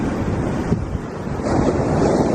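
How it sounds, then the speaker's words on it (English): Ocean surf on the California coast at dawn rushes and hisses close by as the water pulls back out to sea, a broad churning wash mixed with wind buffeting the microphone. "waiting for the water to start rushing back out to sea"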